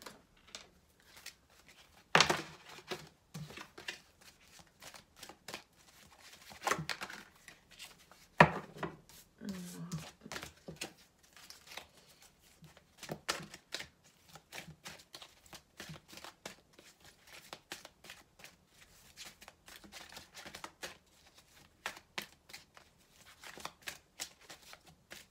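Oracle cards are shuffled for a new reading, with soft repeated riffling and rubbing bursts in uneven rhythm, faint and close, with quiet pauses between.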